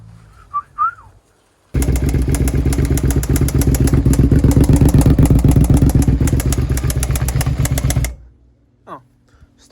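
A first-generation carbureted Suzuki SV650 V-twin motorcycle idles loud and close with a rapid, even lumpy pulse for about six seconds, then abruptly stalls into near silence, with brief faint noises before and after.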